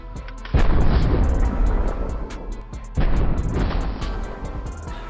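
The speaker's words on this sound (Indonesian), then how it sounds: "James langsung mendatangi pria itu di ruang operasi dan kemudian James langsung menembak mati pria tersebut" Two heavy gunshots in a film scene set in a hospital operating room, each a loud boom followed by a long rumbling decay, with no speech.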